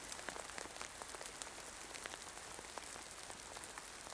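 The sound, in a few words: rain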